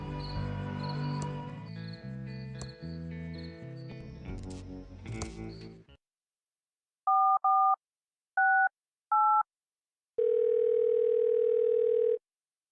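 A cell phone in the adventure game Thimbleweed Park plays a short burst of music, then four separate clean dialing beeps followed by a longer steady tone, all crisp and isolated against silence.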